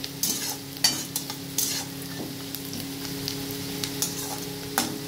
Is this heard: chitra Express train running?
no